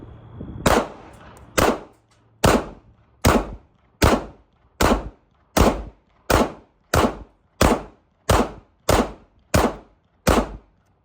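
An S&W M&P 2.0 pistol emptying its last magazine: about thirteen loud, sharp gunshots at a steady, slightly quickening pace, each one with a short echoing tail, and no voices.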